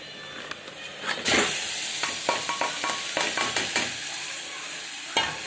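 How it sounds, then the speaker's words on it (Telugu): Mutton pieces drop into hot oil and sizzle loudly, followed by a series of scraping stirs with a spoon that set up a rhythmic clatter over the steady hiss of frying. "ఇంకొంచెం వేగిన తర్వాత మటన్ పీసెస్ వేస్తాను ఇది వేస్తున్నాను చూడండి"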